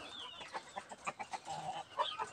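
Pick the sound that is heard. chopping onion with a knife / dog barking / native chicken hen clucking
native chicken hen clucking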